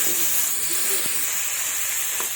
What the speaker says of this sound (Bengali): ওই তেলেই আমি আলু আর সঞ্জনাটাকে ভেজে নেব